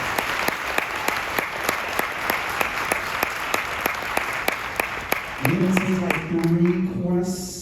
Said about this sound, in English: Would you give a round of applause for them?